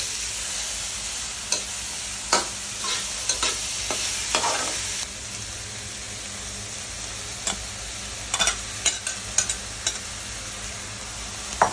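String beans sauté in a pan, a steady frying hiss throughout with scattered sharp clicks and ticks of a utensil against the pan, clustering toward the end.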